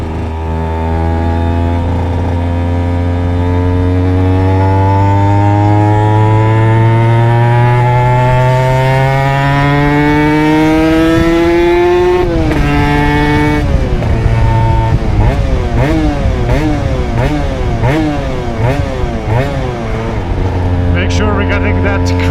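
A custom RS125 motorcycle engine is revved while being run in. The loud, close engine note climbs steadily in pitch, then wavers through repeated quick blips of throttle before settling back toward idle.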